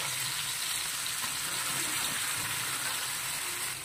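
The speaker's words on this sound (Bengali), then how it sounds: "চুলার আঁচ লো করে এখন চিকেনের পিসগুলো দিয়ে দিব। অল্প আছে, আস্তে আস্তে সুন্দর করে ভেজে নেব।" Chicken pieces frying gently in butter over a low flame give a constant, dense hiss of sizzling that stays steady and close throughout, without speech.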